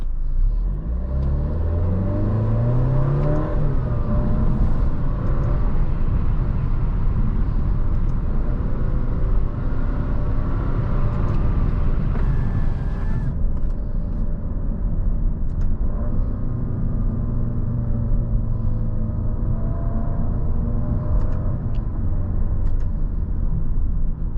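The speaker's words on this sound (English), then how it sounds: "I'll open the windows for you guys a little bit, and then we'll take this on a real drive." A 2023 Alfa Romeo Giulia Veloce is driven with its windows open. Heard from inside the cabin, a low engine rumble and tire whir rise and fall as the car accelerates and shifts, with wind and road noise blending in throughout.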